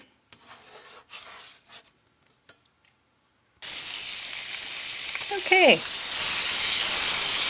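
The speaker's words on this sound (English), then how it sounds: "now I'm just cooking the garlic" Garlic and butter sizzle in a pan after a wine deglaze, a steady close hiss of frying that starts abruptly partway through and grows slightly louder, with brief talk and kitchen clatter before it begins.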